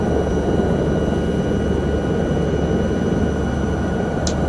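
A helicopter in a flight simulator game settles down after landing on a mountain rescue mission in the Alps, a steady loud rotor and turbine drone with no talk.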